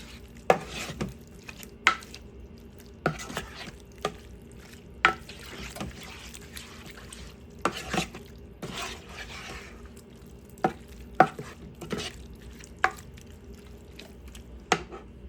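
Chili powder is stirred into a buffalo chicken chili in a crockpot, sharp spoon clicks and knocks against the pot every second or so over a soft wet churning, close and quiet, no voices.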